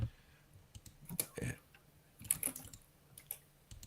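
A computer keyboard is typed on in loud, irregular bursts of sharp clicks and clacks, fairly close, with scattered pauses between the runs of keystrokes.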